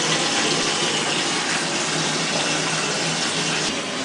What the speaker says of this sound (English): I usually just put it in my bathtub, fill the bathtub up